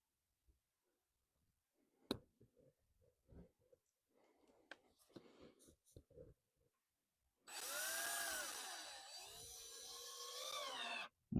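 Scattered handling knocks and taps give way to a sustained close drill whir lasting several seconds, driving a screw into wood on a mini mobile cabin build.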